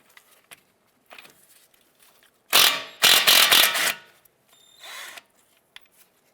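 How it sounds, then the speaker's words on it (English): Ratchet wrench loosening strut nuts on a 2006–2011 Honda Civic, with a few faint clicks, then two loud, close bursts of rapid ratcheting, followed by a shorter burst. "Next, I'm going to go ahead and loosen these nuts,"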